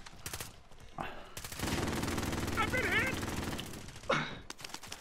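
Sustained automatic gunfire in a military shooter game rattles for a few seconds, close and loud, between short voice exclamations and heavy breathing.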